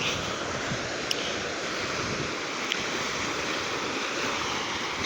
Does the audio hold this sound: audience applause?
no